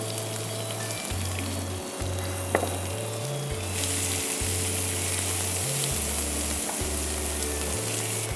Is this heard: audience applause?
no